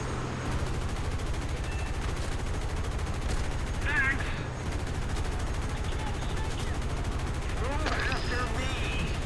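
Rapid gunfire from War Thunder tank and aircraft combat, dense overlapping bursts running continuously throughout at steady loudness, with players talking over the shooting.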